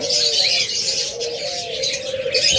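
A breeding pair of pet doves or cockatiels, one bird giving a sustained cooing call near and clear while bright chirps and twittering from other caged birds fill the background.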